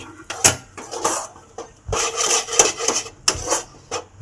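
Chhatu kachori dough being kneaded by hand with small splashes of water, giving repeated soft rubbing and squishing strokes in an irregular rhythm, close and fairly loud with no talking.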